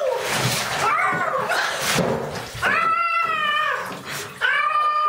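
A cat yowls loudly in long, wavering cries, repeated several times, with splashing and clattering from a bath between the howls.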